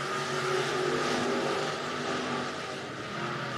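Race cars roar down the front stretch at RPM Speedway in Hays, Kansas, their engines merging into a loud, sustained drone that swells and eases slightly as they pass.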